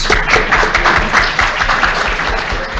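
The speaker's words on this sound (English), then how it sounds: "So give yourselves a round of applause." Loud, close applause from a sizable conference audience, a rapid patter of hands continuing evenly throughout.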